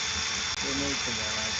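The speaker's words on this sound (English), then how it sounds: "flick your drill in reverse" A power drill runs in reverse to back out stainless steel wire while building staple stag sculptures, giving a steady close whirring drone with a brief dip midway as a voice talks over it.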